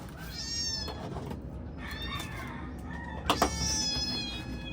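A cat meows several times, drawn-out and plaintive, over a steady background hum with a couple of soft knocks.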